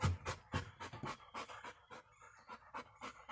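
Dogs panting close by in quick, rhythmic breathy bursts, fairly quiet, with no talking.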